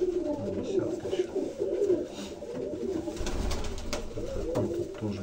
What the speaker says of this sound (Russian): Такого плана вот голубь.